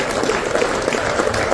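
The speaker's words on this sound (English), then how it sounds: "Those claps are not deep enough." Audience clapping at an investment forum in Guwahati, a dense steady wash of many hands heard close and fairly loud, with no voices over it.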